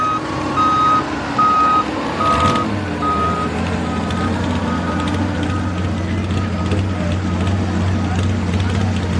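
A pulling truck at a truck-pull event at Millers Tavern, Virginia, backs into the sled, its backup alarm beeping steadily over a low idling engine, while someone speaks over it.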